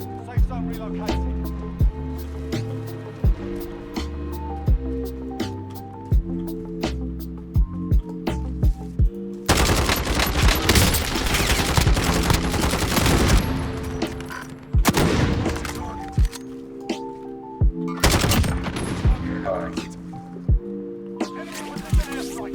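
Gunfire crackles in Call of Duty Warzone, sharp repeated shots at first, then dense bursts of firing over a pulsing game backdrop, with radio-style callouts and a voice speaking throughout.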